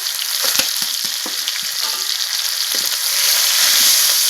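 Onion, cumin, dried red chillies, bay leaves and whole garam masala sizzle steadily in hot oil in a pan, a dense continuous frying hiss with occasional stirring scrapes, close and loud with no talking.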